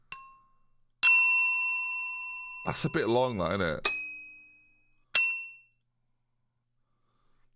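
Church bell sound effects are previewed one after another as separate clanging dings with long ringing decays. Someone speaks briefly between the strikes.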